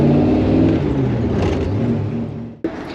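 A supercharged 1955 Chevrolet Nomad gasser idles a little fast with a steady, loud, close rumble, and a brief sharp dip near the end.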